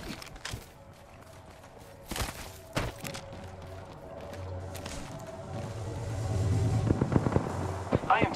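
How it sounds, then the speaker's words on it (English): Gunfire in the Apex Legends video game, a scatter of sharp cracks and bursts at irregular intervals over a busy game background, growing denser toward the end. "I am taking fire, friends."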